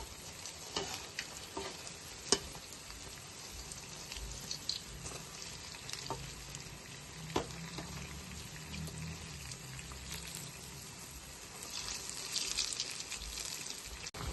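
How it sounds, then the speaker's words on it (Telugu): Burelu, sweet Telugu dumplings made with idli rava, frying in oil on a stove over medium flame, giving a steady soft sizzle with occasional crackles and pops, fairly faint and with no voices. "స్టవ్ మీడియం ఫ్లేమ్లో పెట్టుకొని మనం బూరెలు వేపుకోవాలి."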